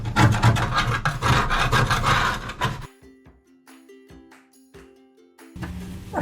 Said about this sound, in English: so I'll just get a chisel on them